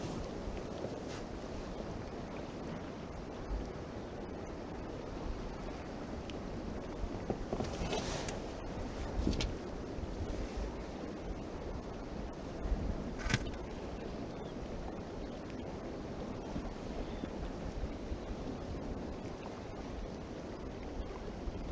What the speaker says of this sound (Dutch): Blijft er maar doorgaan, die golven.